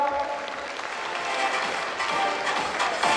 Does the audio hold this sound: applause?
yes